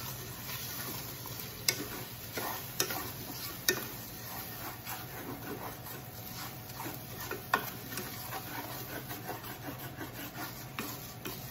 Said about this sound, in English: I'm gonna take my flavor and add my 2 cups of rice. Stir that in.